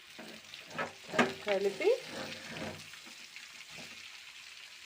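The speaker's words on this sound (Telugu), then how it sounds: "కాకరకాయలు ఇలా కొంచెం వేగాక" Bitter gourd pieces with turmeric and salt fry in a pan, a low sizzle with a few stirring scrapes, while a voice speaks briefly.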